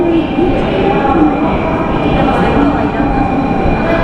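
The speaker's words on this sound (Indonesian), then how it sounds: "Kereta." An N700 train in Japan rumbles steadily and loudly at close range, a continuous roar of wheels and motor with a faint voice underneath.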